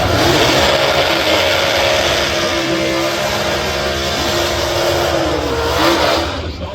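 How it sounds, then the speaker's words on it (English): Pro Stock drag racing car powered by a new-generation 500X Hemi engine at a Sydney Dragway nitro championship meeting, its loud engine roaring steadily and continuously before easing off near the end, with no talk over it. "That is a 500X Pro Stock Hemi, the new generation."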